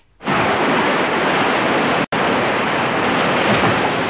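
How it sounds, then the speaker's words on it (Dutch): Rough sea waves surging in a cartoon, a steady loud broadband roar that fills the whole stretch with only a split-second break midway, no voices. "nou, de zee wordt wel erg ruw."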